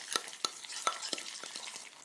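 Food is stirred in a pan with a utensil, giving a series of quiet scraping strokes and light taps against the metal over a faint background, with no talking.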